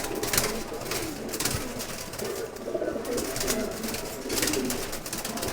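Blue bar racing pigeons coo in a loft, low rolling calls overlapping in a continuous chorus, with bursts of brighter rustle and wing noise now and then.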